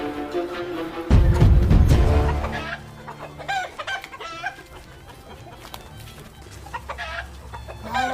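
Chickens cluck and squawk close by, with a loud burst of flapping or scuffling early on, then scattered clucks continuing over a steady background.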